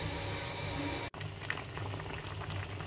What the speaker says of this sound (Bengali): তো এটাকে বলক চলে আসছে